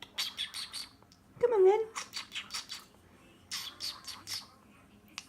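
Pet budgies chirp and squawk in short bright bursts around a person's talk, with one louder rising call in the middle of the sequence.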